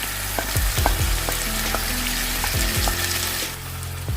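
Chicken gravy sizzles in a pan as it is mixed, a close, steady frying hiss with intermittent scraping and clinking from the stirring.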